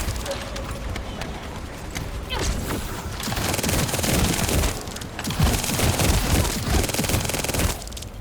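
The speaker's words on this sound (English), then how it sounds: "Shotgun for days" A shotgun in the video game The First Descendant fires repeatedly amid a chaotic battle, with heavy blasts, impacts and effects layered into a constant loud wash of combat noise and occasional voices.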